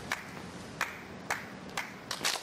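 Connor clapping into a gap left in a song at a busking rock camp: four or five sharp, evenly spaced single claps, fairly faint over a steady background hiss.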